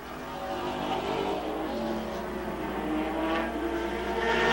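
Late model stock cars racing at Capital Speedway in 1985, a dense, steady roar of several engines droning together, swelling and shifting in pitch as the pack passes, with no break in the noise.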